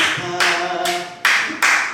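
A church congregation claps in a few sharp, loud group claps, four distinct bursts spaced roughly evenly with short gaps between them.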